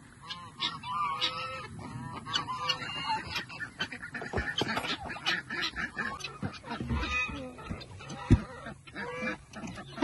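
Poultry calls fill the air, a busy mix of honking, clucking birds close and fairly loud, overlapping throughout with no speech.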